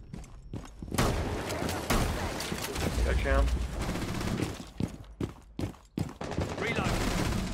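Rapid bursts of gunfire in the tactical shooter game Rainbow Six Siege, several sharp overlapping shots cracking in clusters, with a voice talking over the action.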